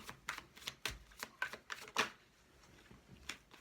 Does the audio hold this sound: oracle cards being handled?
yes